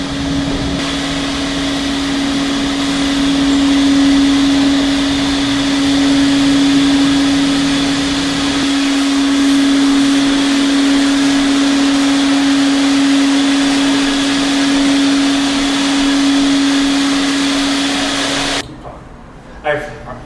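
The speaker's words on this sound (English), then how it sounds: "use a shop vac or wet vac to clean up the water and get most of the moisture off of the floor" A wet vac runs loud and continuous, sucking neutralized chemical solution off a floor being treated for slip resistance, with a steady whining drone that cuts off abruptly near the end.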